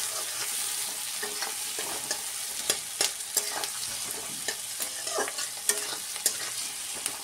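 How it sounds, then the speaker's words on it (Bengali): Onions frying in a pan with a constant bright sizzle, repeatedly broken by sharp scrapes and clacks of a utensil stirring, close and alone. "পেঁয়াজটা একটু ভাজা ভাজা হোক। পেঁয়াজগুলো ভাজা ভাজা হয়ে গেছে।"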